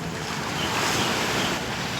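Morning sea waves break on the shore at a secluded beach in Pattaya, a continuous loud surf wash with wind buffeting the microphone, no voices.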